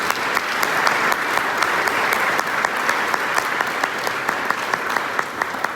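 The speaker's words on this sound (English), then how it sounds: "So give yourself a round of applause" A crowd at a backcountry canoe show farewell event applauds itself, dense continuous clapping at an even level with a few sharper nearby claps standing out.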